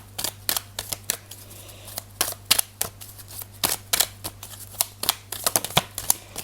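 Tarot cards being shuffled by hand, a quick run of crisp riffling snaps and flutters close up with short pauses between bursts, no talking.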